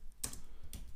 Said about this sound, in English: let's open up the terminal and type in pip install